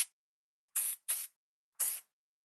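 Texture spray for fine hair hissing in three short aerosol bursts, the second following closely on the first and the third after a pause, close and alone in a quiet salon.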